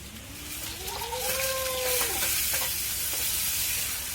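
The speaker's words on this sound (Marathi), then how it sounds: "त्यामध्ये टाकायचे आपल्याला जिरे जिरे चांगले मस्त लाल झाले का आपल्याला हा कांदा त्यात चांगला परतून घ्यायचं" Onion is fried in hot oil with cumin on a village stove: a steady loud sizzle and stirring scrapes, with a wavering animal-like bleat, probably a goat, rising briefly in the background.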